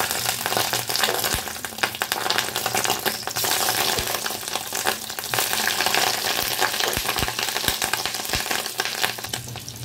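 Pieces of boiled fish roe fry in hot oil with a dense, continuous crackling sizzle, close and fairly loud, broken by occasional sharp pops and clicks.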